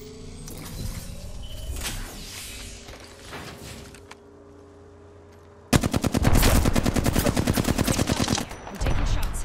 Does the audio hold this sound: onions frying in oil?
no